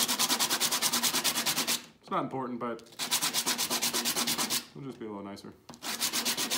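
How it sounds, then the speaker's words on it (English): Rhythmic back-and-forth sanding strokes on a plastic bottle cap flange, smoothing off leftover material from a saw cut; steady, close and loud, broken by two short stretches of someone talking. "I'm just sanding off some of that material right there from the saw."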